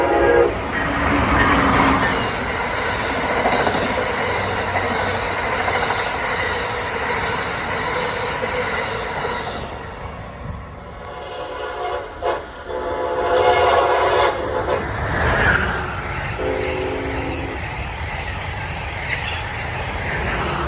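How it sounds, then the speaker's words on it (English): Amtrak train 185, New York to Washington, approaching Newark station with a loud, steady rumble of wheels on rails, a horn sounding partway through, and faint metallic squeals as the cars pass close by. "approaching at 11:27 is train 185 from New York to Washington"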